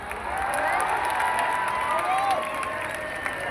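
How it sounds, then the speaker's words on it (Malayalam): An event crowd in Kochi claps for the city's people, a sustained wash of applause with scattered cheering, fairly loud and continuous with no clear talk over it. "കൊച്ചിക്കാർക്ക് ഒരു കൈയടി കൊടുക്ക്"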